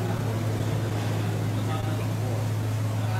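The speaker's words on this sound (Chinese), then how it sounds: "可以通过我们的现场的声音能够听到赛车引擎发出的轰鸣声" Racing car engines roar steadily through GT3 qualifying at a race circuit, a continuous, dense, low droning wash with no breaks that fills the whole stretch and sounds somewhat distant.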